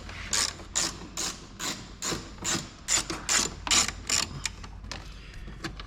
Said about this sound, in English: 10mm socket. Get this little bad boy off.